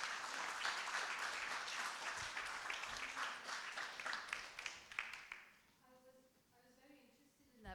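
At a poetry slam, an audience applauds a poet with steady clapping that fades out after about five seconds, and a voice begins speaking once it dies down.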